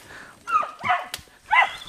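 Dogs bark at a house high on a mountain in Quezon: three sharp, close barks spaced apart, with a whimpering yip and nobody speaking.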